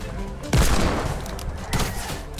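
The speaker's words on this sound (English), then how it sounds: "Oh, I hear gunshots." Two bursts of gunfire in Fortnite, a sharp volley and then a second round of shots a moment later, loud and close amid a noisy game background.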